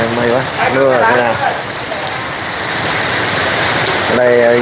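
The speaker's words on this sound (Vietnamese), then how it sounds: "Đây bây giờ mưa to rồi." Heavy rain pours steadily onto a pontoon bridge in a dense, continuous hiss, loud and close, while a person talks excitedly over the downpour at the start and end.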